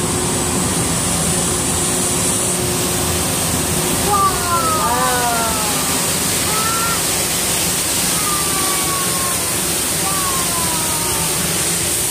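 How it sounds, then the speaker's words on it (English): Waterfall at the Dallas Zoo gives a loud, steady, broadband rushing roar that continues without a break, with faint bird calls chirping briefly over it. "right before we head under that waterfall"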